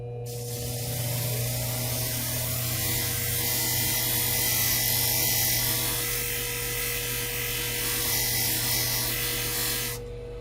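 Salon shears, a Centrix thinner and a curved stylist shear, are ground on a spinning cushion 500 plate sharpener, giving a loud, steady hissing whir with a motor hum under it that runs for about ten seconds.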